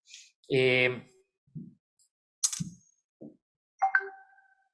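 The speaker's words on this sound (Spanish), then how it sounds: "me están diciendo que está haciendo mucho ruido el WhatsApp" Several WhatsApp notification sounds pop in sequence: short plops and a ringing chime, spaced irregularly, with a brief voice at the start.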